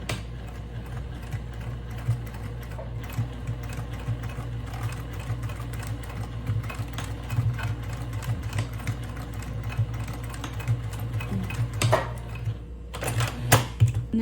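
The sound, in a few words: sewing machine stitching a tote bag seam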